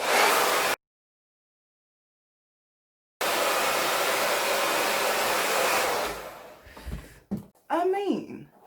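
Hair dryer blowing hair at close range, a steady loud rush that cuts out for a couple of seconds, resumes, then drops away as brief speech follows.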